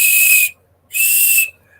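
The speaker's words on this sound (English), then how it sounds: "a dear friend of mine at one of the flea markets made these whistles out of deer antler" A handmade whistle carved from deer antler gives two loud, clear, sustained blasts of roughly half a second each, separated by a short silence.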